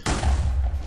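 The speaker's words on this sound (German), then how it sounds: "Warum ist der explodiert?" A creeper explosion in Minecraft, a single sharp low boom that bursts in and rumbles heavily for under a second.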